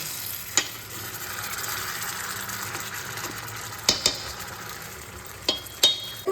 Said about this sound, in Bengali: মাঝে মধ্যে এটাকে নাড়িয়ে দিতে হবে, তাহলে নিচে লাগবে না।